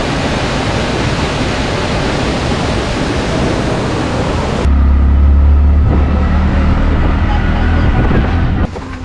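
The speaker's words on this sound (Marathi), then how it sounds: "पाऊस खूप आहे" Heavy rain roars continuously near a waterfall outing in Badlapur, a dense wash of hiss that shifts halfway through to a muffled, boomier rumble as if heard from under cover.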